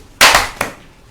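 Children clap together in unison: one loud, sharp clap near the start, then a softer second one, close and short, with no voices.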